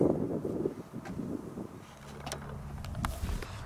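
Wind buffets the microphone at an RC airfield before a flight, giving a rough, gusty rumble that rises and falls for a few seconds with no talk.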